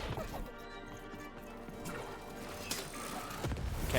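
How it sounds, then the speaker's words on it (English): Heavy, chaotic combat in the video game Lost in Random with repeated booming cannon blasts and crashing impacts, loud and dense throughout. "Cannon's going off."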